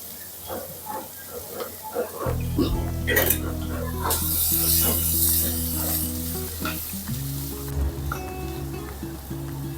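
Finely chopped onion drops into hot oil on a gas stove at low-medium heat and starts a loud, steady sizzle, broken by stirring scrapes, with a background hum and a voice talking over it.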